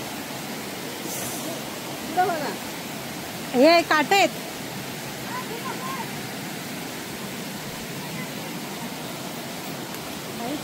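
A full Konkan waterfall pours with a constant broadband rush, while someone speaks briefly and another short voice cuts in over the steady water.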